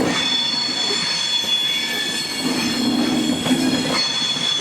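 A train at Manchester Piccadilly railway station squeals loudly on its wheels, a sustained high metallic screech and whine over the low rumble of the rail cars rolling through, close and continuous.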